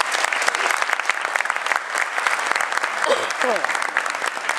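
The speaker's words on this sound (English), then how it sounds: "Let's give her a round of applause." An audience gives a loud, sustained round of applause for a woman who put a montage program together, dense steady clapping throughout with a brief voice-like sound near the end.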